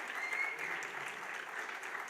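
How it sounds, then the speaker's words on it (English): A Rotary Club of Bombay Kandivli audience applauds Mahendra Modi, a steady round of clapping heard throughout at moderate distance. "this person, Mahendra Modi, requires a big round of applause"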